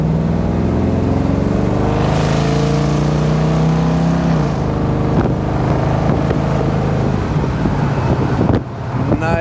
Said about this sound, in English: This has got a 40 series Flowmasters up underneath it. It's a true dual exhaust.